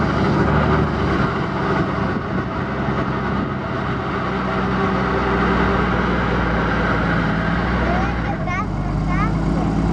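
Helicopter engine warming up before takeoff, a loud steady mechanical drone with deep low rumble filling the scene, while people talk over it and a few high chirps appear near the end.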